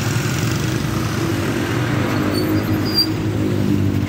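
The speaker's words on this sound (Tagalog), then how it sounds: "Uy, traffic." Evening road traffic with cars and motorcycles passing, a continuous low engine rumble heard from within the flow of vehicles, steady and fairly loud with no talking.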